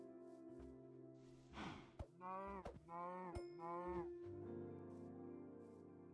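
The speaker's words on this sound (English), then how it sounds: "this one's a cow" A cow in a video game moos several times in a row, long wavering calls that sit close and clear above quiet background game ambience, with a soft breathy sound just before.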